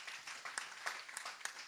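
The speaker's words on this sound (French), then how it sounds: "Un applaudissement si vous le voulez, évidemment." Scattered, faint applause from a small studio audience at the close of a literary talk show, a short patter of claps at modest distance.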